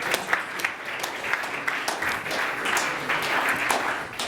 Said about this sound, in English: the applause is for Salvatore, of course